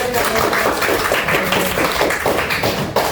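Classroom of students applauding a classmate, dense rapid clapping filling the room, loud and continuous with some voices mixed in beneath.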